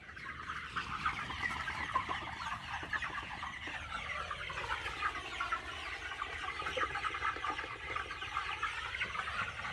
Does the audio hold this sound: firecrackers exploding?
no